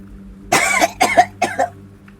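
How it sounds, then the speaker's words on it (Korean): Three harsh, violent coughs burst out in close succession, loud and near against a quiet background, each a rough, raspy fit from one person. "격하게 기침이 나왔다."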